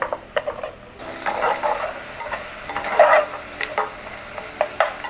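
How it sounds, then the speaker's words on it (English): Carrots stir-fried in a hot wok with cooked mussels for noodles sizzle loudly and close, with repeated scraping clicks of a utensil tossing the pan, steady frying underneath. "once the mussels are cooked, we can throw in our vegetables. We'll do the carrots first"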